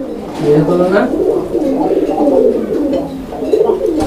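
Raj-golla pigeons at a seller's display give soft, throaty coos in short repeated phrases, close by, with voices murmuring in the background.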